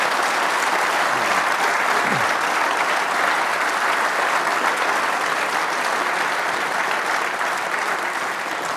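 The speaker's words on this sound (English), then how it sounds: "Can we put our hands together for our panel, please?" A fan-forum audience applauds a rugby league club panel with sustained, dense clapping that holds steady from start to end, loud and filling the room.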